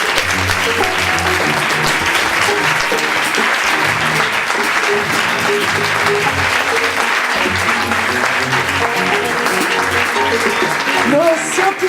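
Sustained, loud applause from a large audience fills the hall at a French talk on the origins of consciousness, steady throughout with some cheering and voices mixed in.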